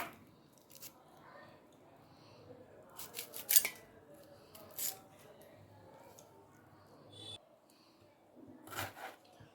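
Onions being cut lengthwise for a brinjal and raw mango curry: crisp, close slicing snips in scattered bursts, some quick runs of strokes, with quiet stretches and faint background talk.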